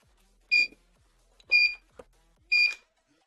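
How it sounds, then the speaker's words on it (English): Three bright electronic beeps from a device plugged into the wall, evenly spaced about a second apart, loud and close against near silence, with a faint click between the second and third. "I apologize for the beeping"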